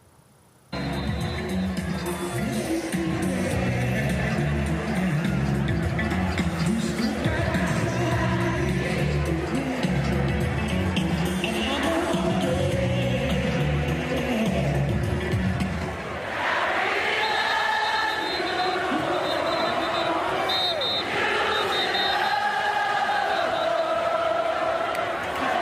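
A crowd of 30,000 at a Jackson State football game roars, chants and cheers in a loud, sustained wash of voices that shifts partway through.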